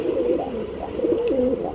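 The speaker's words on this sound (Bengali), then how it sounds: "খুবই সুন্দর এক জোড়া কালারিং রাজগোল্লা কবুতর হচ্ছে মাদি" A pair of coloured Rajgolla pigeons on a pigeon farm cooing softly and repeatedly in a steady, rolling rhythm, close by over faint background noise, with no talk.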